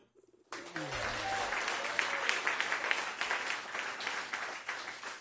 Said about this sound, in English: I wish I got that kind of applause.